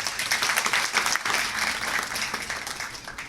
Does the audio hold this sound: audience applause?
yes